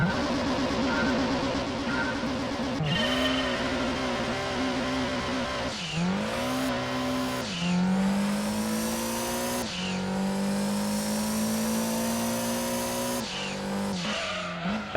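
Race car engine in Gran Turismo 2 on a 400 m acceleration test, loud and close, revving hard and rising in pitch through several gear shifts, with a brief tire squeal at launch, continuous throughout.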